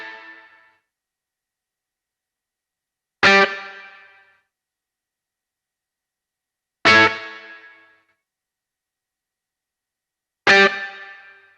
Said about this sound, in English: if I play the riff without the delay, it's just going to sound like this